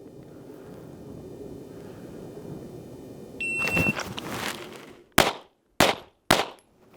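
A handgun fired into targets during a concealed carry baseline shooting drill: three sharp, loud shots in quick succession near the end, preceded by a timer beep and some handling noise.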